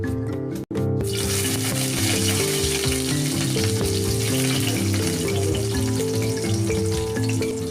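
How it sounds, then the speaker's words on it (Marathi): Loud, continuous sizzling of seven or eight garlic cloves and a sliced onion frying in hot oil for a sprouted horse gram curry, crackling steadily after a brief dip near the start. "तेल तापल्यानंतर त्यामध्ये सात ते आठ लसूण पाकळ्या आणि एक उभा चिरलेला कांदा घालते"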